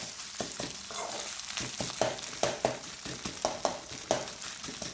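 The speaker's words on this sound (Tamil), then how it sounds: "இஞ்சி பூண்டு பேஸ்ட்டு சேர்த்து அதையும் கைவிடாமல் நல்லா வதக்கிக்கிட்டே இருங்க" Ginger garlic paste and onions sauté in oil for a carrot, bean and egg poriyal. A soft, constant sizzle is broken by sharp, regular taps and scrapes of a spatula stirring close by.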